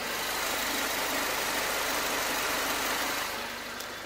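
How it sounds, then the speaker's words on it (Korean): A Mercedes-Benz SLK200 BlueEfficiency with about 60,000 km sits idling, its engine giving off a steady, quiet hum close by, even and unbroken for a few seconds with no one speaking. "엔진 소음 먼저 들려드리면은"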